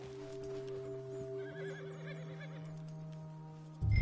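A horse whinnies loudly in a long, shaky neigh in the video game Red Dead Redemption 2, with a steady synthetic tone humming underneath and a thud at the very end.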